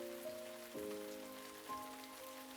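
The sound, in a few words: rain downpour in a visual novel game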